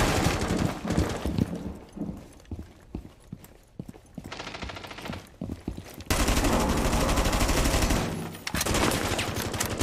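Loud, close gunfire in Rainbow Six Siege, with scattered single shots and short bursts early on, then sustained rapid automatic fire, interrupted by a brief pause and a sharp cutoff.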